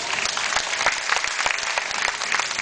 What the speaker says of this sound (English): How many round of applause for Ockie?